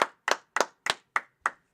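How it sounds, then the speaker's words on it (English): Six sharp hand claps in an even rhythm, crisp and close, each separated by silence with no talk. "All right, go ahead, clap it up."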